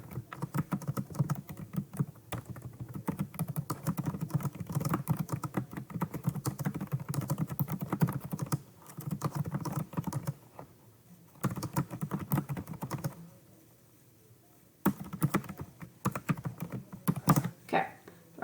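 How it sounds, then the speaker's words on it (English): Rapid, close clicking of a computer keyboard as a comment is typed, coming in uneven bursts with brief pauses and a quiet gap near the end. "and then you'll type your comment"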